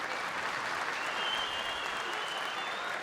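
Crowd at an MMA welterweight cage fight applauds steadily, a dense, continuous wash of clapping and cheering that holds at an even level throughout.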